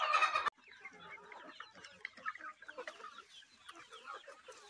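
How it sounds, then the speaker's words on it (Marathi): Desi gavran hens cluck and chatter in a busy, irregular stream of short calls, fairly near and moderately quiet, following a brief loud burst at the start. "ह्या मित्रांनो आपल्या गावरान कोंबड्या आहेत"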